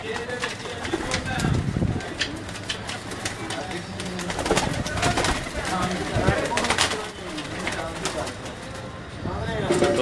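Fancy-breed pigeons coo in a loft in Gujranwala, a steady layered murmur of birds close by, with voices talking over them throughout.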